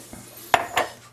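A coffee cup is moved in a home kitchen, giving two quick close ceramic clinks about a quarter second apart after a faint soft tap, with no talking.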